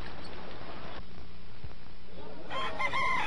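A rooster crows in a small Haitian village ahead of a cockfight, one loud, clear call rising near the end over steady background noise.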